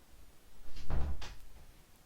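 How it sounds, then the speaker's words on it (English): A door is pushed shut indoors with a single dull thump and brief rattle, fairly close and loud against quiet room tone, with no talking over it. "Kinda need to close the door before they create a big ruckus"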